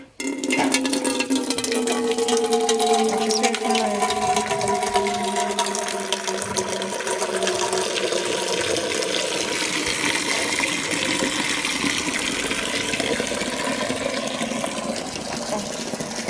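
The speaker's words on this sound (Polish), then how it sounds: "przechodzę już do wymieniania wody." Water gushes and pours continuously while being changed in an enclosure for ducks and geese, a steady rushing fill with a slowly shifting tone that runs unbroken and close for the full length.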